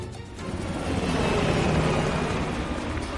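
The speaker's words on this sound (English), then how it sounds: "the chopper got away" Helicopter in the video game Call of Duty Black Ops Cold War flying away: a broad, rumbling rotor-and-engine roar swells and holds steady, loud and continuous with no voices over it.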